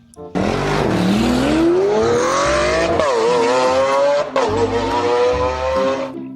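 A toy race car's engine noise whines and rises in pitch like revving acceleration, dips with a short break, then climbs again, loud and close throughout.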